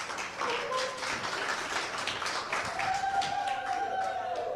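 An audience claps and applauds steadily at a Zulu company award ceremony, a dense continuous patter of hands lasting throughout, with a faint tonal voice or music line drifting underneath.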